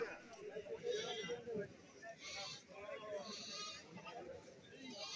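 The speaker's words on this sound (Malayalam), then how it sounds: "കറവയുള്ള ആടുകളാണ് ഈ ഭാഗത്ത് നിൽക്കുന്നത്." Goats, including milking does, bleat repeatedly at a busy goat market in Kerala, with several close calls rising over people talking nearby.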